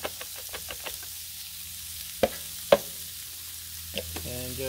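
Carrots, onions and celery fry on a Blackstone griddle with a low, steady sizzle, while a spatula strikes the steel in a few sharp knocks and scrapes, close by and not loud.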